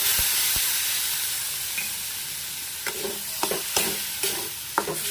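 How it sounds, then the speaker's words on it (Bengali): Chili and turmeric spices sauté with tomato in a pan, a soft continuous sizzle broken by a series of distinct scraping stirs that grow more frequent in the second half. "এবার ভালো করে মশলাটা কষিয়ে নেব"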